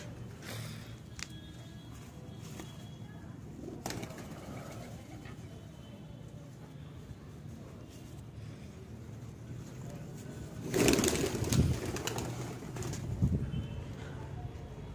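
Pigeons, including a high-flyer pigeon, coo softly in the background amid outdoor noise at a pigeon loft in Lucknow, with a louder rustle or flutter near the end.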